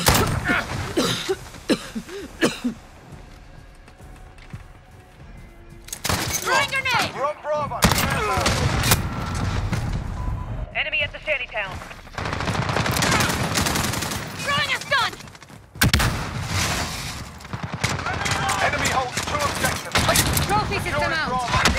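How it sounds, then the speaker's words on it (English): Dense gunfire and shotgun blasts in a Call of Duty: Modern Warfare match, with rapid bursts and repeated shots filling most of the stretch, broken by brief lulls, loud and close with voices mixed in. "I have to shoot twice at them with the fucking fire shotgun."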